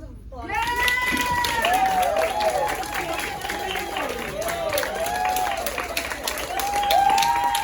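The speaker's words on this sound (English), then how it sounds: "can we just give them a round of applause?" An audience at a senior performance gives a sustained, loud round of applause with dense clapping and scattered cheers and whoops throughout.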